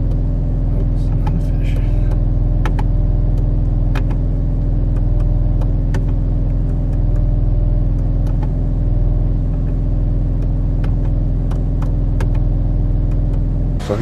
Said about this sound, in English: Now we got the car running. Just checking to see if everything's idling properly.